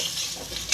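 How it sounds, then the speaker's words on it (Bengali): Large chunks of potato frying in a pan, giving a steady close sizzle through the short stretch that swells briefly near the end. "আলু এরকম বড় বড় করে ভাজা হচ্ছে"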